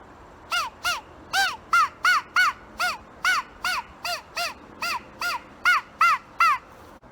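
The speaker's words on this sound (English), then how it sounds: "Hear a crow in the distance." Loud, evenly spaced series of about eighteen harsh caws from a homemade DIY crow call, repeating steadily in short rhythmic bursts with nothing else over them.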